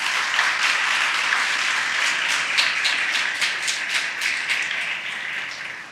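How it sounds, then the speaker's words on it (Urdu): Enthusiastic applause from a sizable crowd at a children's assembly in Lahore, dense steady clapping that holds for several seconds before easing slightly. "آپ سب کے لیے آخر میں پرزور تالیاں"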